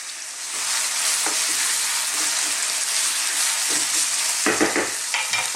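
Chicken and onions frying in a pan for a chicken and chickpea curry, a loud, close, continuous sizzle with occasional stirring and scraping, strongest near the end.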